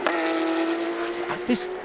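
Porsche GT3 Cup race cars cresting the Laguna Seca Corkscrew, a steady high engine note passing under commentary, with a brief burst of tire noise near the end.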